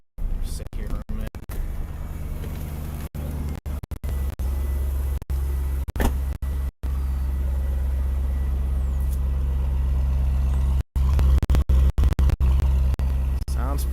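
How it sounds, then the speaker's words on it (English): A C5 Corvette with its stock exhaust idles close by, holding a steady low rumble throughout with a few brief dropouts and clicks. "Sounds pretty good for a stock exhaust."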